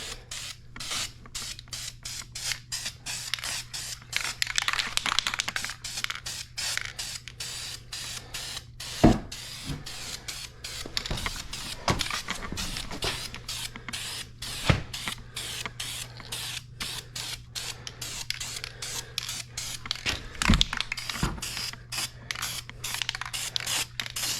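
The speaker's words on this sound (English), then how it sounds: "we'll get another coat of primer on this intake" Primer is spray-painted onto the intake manifold of a 1973 GMC truck engine. A spray can hisses in short repeated bursts with brief gaps and a few clicks between them, close by over a low background hum, with no speech.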